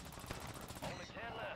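Rapid Fortnite gunfire, a fast string of close shots rattling over about a second before trailing off into game noise, with a player's voice faintly underneath.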